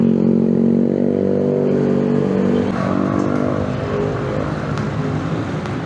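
A motorcycle engine revs loud and close, a rough continuous drone holding steady before easing slightly toward the end.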